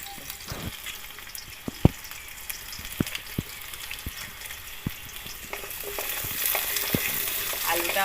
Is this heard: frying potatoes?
yes